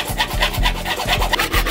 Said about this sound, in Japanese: 次に、ヤスリで断面を整えます。